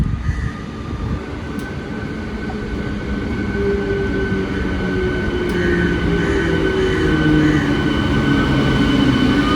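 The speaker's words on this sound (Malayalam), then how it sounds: "മേട്ടുപ്പാളയം കോയമ്പത്തൂർ ജംഗ്ഷൻ മെമു വരുന്നുണ്ട്." A Mettupalayam–Coimbatore Junction MEMU train rolls into a station, its loud, continuous rumble steadily building as it draws near, with a high whine running through it.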